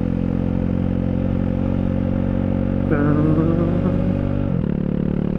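A Honda Rebel 250 with E-Clutch is ridden, its engine droning loud and steady before the pitch drops and shifts twice as it changes gears, with wind rushing throughout.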